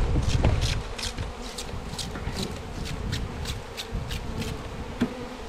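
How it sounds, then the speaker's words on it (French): Dense buzzing of many honeybees shaken from several hive frames into a hive roof, loudest at the start with a brief rustle, then a steady swarming hum with no talking. "on secoue plusieurs cadres d'abeilles dans un toit de ruche"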